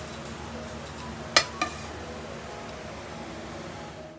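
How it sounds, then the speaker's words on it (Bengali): A metal lid lifted off a cooking pot in a home kitchen during frying of fish and eggplant, two quick clinks close by, the first louder, over a steady background hiss. "ঢাকনা খুলে দেই, হয়ে গেছে।"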